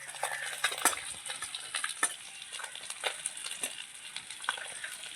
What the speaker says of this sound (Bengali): কিছু মাছ এই কড়াইয়ের মধ্যে ভাজছি